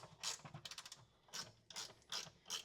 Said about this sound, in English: This is a 5/16 ratcheting wrench.